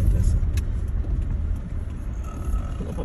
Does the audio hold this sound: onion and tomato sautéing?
no